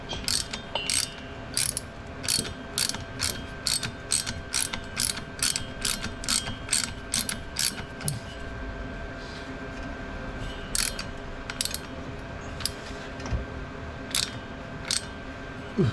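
Ratchet wrench clicking in repeated bursts of quick pawl ticks with short pauses, close and fairly loud, while working on the prop shaft of a Land Rover Defender 110 200Tdi, with no talking.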